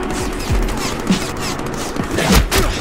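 Gunfire in the Deadpool video game, several sharp shots and bursts scattered across a few seconds, loud and close over busy game background noise.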